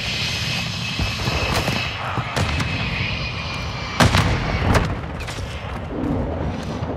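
Grenade blast and rifle gunfire in a military shooter video game: sharp cracks and booms scattered through seven seconds over a steady engine-like roar, with a heavier burst midway.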